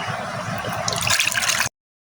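A mango mixture pours into a wok in a thick, gurgling stream, close and fairly loud, with bubbly splashing growing over about a second and a half before it stops abruptly.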